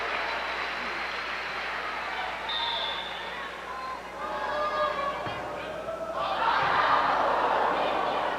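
A volleyball crowd in a gym yells out, a broad murmur of many voices that swells into louder shouting near the end.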